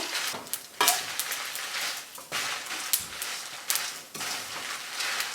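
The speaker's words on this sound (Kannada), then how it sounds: "ಎಣ್ಣೆ ಬಿಸಿ ಆದಮೇಲೆ ಇದನ್ನು ಮೀಡಿಯಂ ಲೋ ಹೀಟಲ್ಲಿ ಇಟ್ಟು ನಿಧಾನಕ್ಕೆ ಹುರಿಬೇಕು" Spice ingredients for bisi bele bath powder roasting in hot oil on medium-low heat, crackling and sizzling steadily up close with repeated scraping strokes of a stirring spoon.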